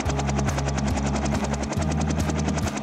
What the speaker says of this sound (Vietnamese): Tớ thích lái máy bay trực thăng.